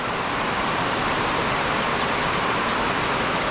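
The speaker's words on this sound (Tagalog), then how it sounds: "Ang lakas ng ulan" Heavy rain pours in a steady, dense roar with no let-up, close and loud throughout, drowning out any other sound.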